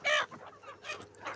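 Sonali chickens and roosters on a poultry farm cluck in short, close bursts, several birds calling in quick uneven succession.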